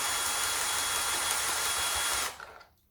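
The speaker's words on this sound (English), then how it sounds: "So start unscrewing." A power driver unscrews bolts on the steering rod of a Pafuluo X-11 electric scooter, whirring loud and steady up close for two seconds before stopping abruptly, with no talking.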